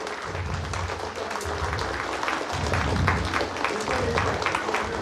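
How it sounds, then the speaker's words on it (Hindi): Sustained applause from a seminar audience in a college hall, with dense, steady clapping filling the whole stretch at an even level. "तालियों की गूंज रुकनी नहीं चाहिए। जोरदार तालियों के साथ"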